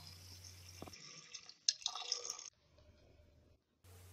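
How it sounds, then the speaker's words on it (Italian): Water is poured over pea pods in a pot in a short burst of splashing and trickling, close by and fairly quiet, ending in near silence. "Ricopro le bucce di acqua."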